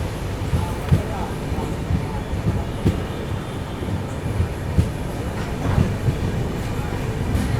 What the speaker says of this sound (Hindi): तो अभी अपनी ट्रेन निकल रही है मेघनगर रेलवे स्टेशन से 2 मिनट के स्टॉप के बाद।